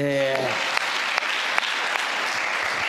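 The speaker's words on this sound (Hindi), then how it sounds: "ताली मारो जोर से" A church congregation claps loudly during a sermon, dense continuous applause from many hands filling the room right after a voice finishes speaking.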